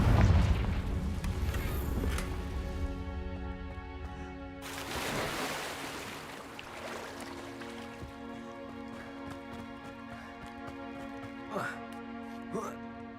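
The Confringo explosive spell in Hogwarts Legacy goes off with a deep boom that rolls into a fading rumble, followed by a calmer stretch with a couple of small sharp impacts.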